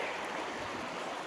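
A waterfall at the Sylhet border near Turung Chora pours with a dense, continuous rushing hiss, loud and close, with no other sounds.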